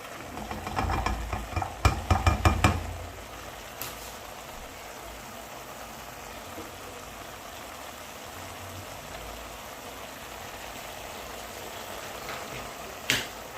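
Cubed sausages cooking in a pan, a spatula clattering and scraping in quick strokes at first, then a steady low simmering hiss with a brief scrape near the end.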